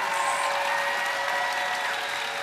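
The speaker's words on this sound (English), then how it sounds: "would you please give them a huge round of applause?" Steady, dense applause from a large convention audience at a YouTuber panel, continuous hand clapping filling the hall without pause.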